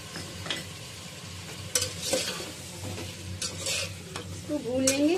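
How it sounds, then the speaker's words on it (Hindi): Chicken for a korma sizzles in a pot after garlic-ginger paste goes in, with loud repeated scraping and clanking of a spoon stirring through a steady frying hiss, and no one speaking. "इसके बाद हम ये लहसुन अदरक का पेस्ट डाल देंगे इसमें"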